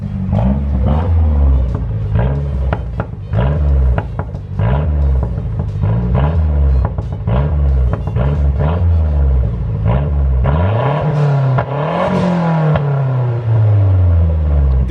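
A Mazda MazdaSpeed 3 fitted with a Turbosmart 50/50 blow off valve revs repeatedly in a loud, close, rhythmic series of engine blips, each followed by a short puff, before a longer rev and whooshing release at the end.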